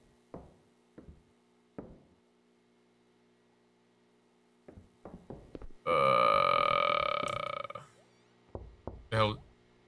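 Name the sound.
knocking on a door in the video game Boston Nursing Home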